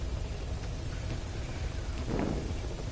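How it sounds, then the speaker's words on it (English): Steady rain in the video game Metal Gear Solid V, a constant broadband hiss of falling rain with a faint low rumble and no talk. "It's raining"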